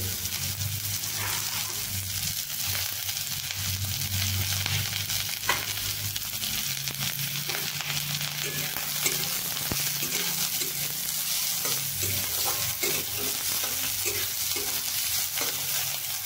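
Chopped onions sizzle steadily in hot oil for soya cutlets, a loud continuous frying hiss with occasional stirring scrapes throughout, no talking.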